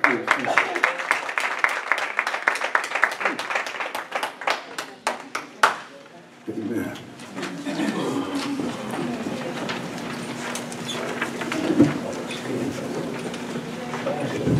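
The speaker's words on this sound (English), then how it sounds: "So with a hand clap of praise for our God," A church congregation claps at a Sunday worship service to welcome the praise team, crisp rhythmic claps that fade out, followed by a quieter room with speech and music starting.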